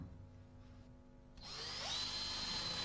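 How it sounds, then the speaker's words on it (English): Drill with a Trend Snappy countersink bit boring into a chipboard floor; a quiet lead-in, then the motor spins up and holds a steady high whine until the end. "using the Snappy countersink bit to drill the hole and the screwdriver bit to complete each fixing in just a few seconds"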